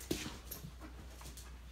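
A wet dog outdoors near sawdust and a truck breathing in quick, soft, rhythmic pants, faint and close, with a low background hum and no talking.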